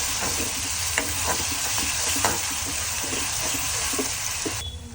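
A chutney gravy paste with cumin sautéing in a hot pan, a steady close sizzle with intermittent scraping stirs throughout.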